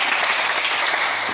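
Church congregation applauding the Lord, a steady dense wash of many hands clapping throughout, loud and close, with no voices.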